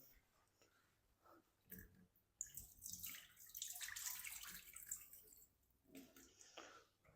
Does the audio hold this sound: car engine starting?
no